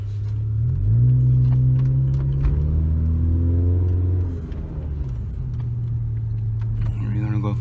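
Honda Civic EJ8 engine idling then pulling away, a steady low hum that rises in pitch as it revs, eases off briefly, then climbs again, close and clear over faint background noise.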